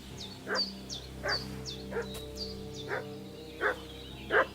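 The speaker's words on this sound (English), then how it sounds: "What's that dog making such a fuss about?" A dog in the video game Kingdom Come Deliverance 2 barks six times at a steady pace, a mid-distance, moderately loud woof repeated in an even rhythm over a low background drone.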